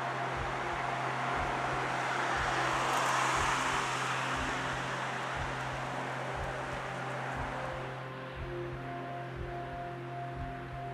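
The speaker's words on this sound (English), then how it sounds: "So much traffic." Steady road traffic drones from nearby vehicles, with a constant low engine hum and broad rushing noise that swells slightly before settling to a quieter level, without any voices.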